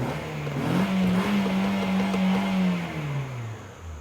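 A Nissan Sentra engine with a sensor fault is revved by a sharp throttle snap, pitch rising and holding high before dropping away; loud and close, with no talking.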